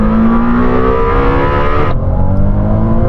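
A Lamborghini Temerario and a Ferrari 296 accelerate hard side by side from a rolling start in third gear, loud engine tones climbing steadily, then a sudden gear change drops the pitch and the climb resumes.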